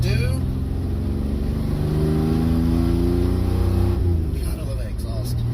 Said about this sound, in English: God, I love that exhaust.